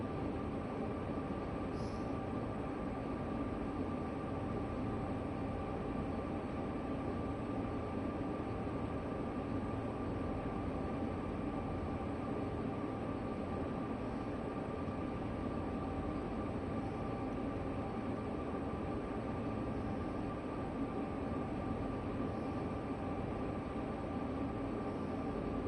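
A train runs steadily in the Train Sim World 3 video game, a constant low rumble and hum of the locomotive and rails that stays unchanged throughout.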